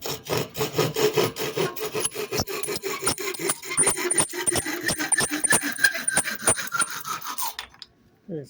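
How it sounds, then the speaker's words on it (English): A hand saw cuts a small piece of wood for a snow blower shear pin holder, with steady rhythmic rasping back-and-forth strokes, close and fairly loud, stopping abruptly near the end. "So we're going to use my saw here."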